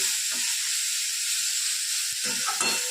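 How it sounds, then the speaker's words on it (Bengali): Capsicum and onion sautéing in a pan for a chicken dish, a steady close sizzle and hiss broken by a few brief stirring scrapes near the end. "এইরকমভাবে কষতে হবে যেন ক্যাপসিকামগুলো আর পেঁয়াজটা যেন না গলে"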